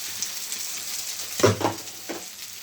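Fajitas frying in a pan give off a steady broadband sizzle, with a louder burst of crackling and stirring near the middle. No one speaks.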